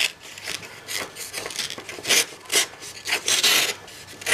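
A Cold Steel Broken Skull knife with a CTS-XHP steel blade slices through paper, giving close, dry rasping strokes in quick irregular bursts with no speech.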